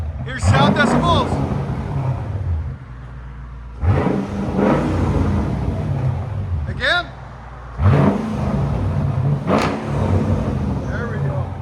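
A straight-piped Mercedes CL55 V8 revs up hard in three loud, close bursts, each climbing then falling back, while people talk and exclaim over the engine.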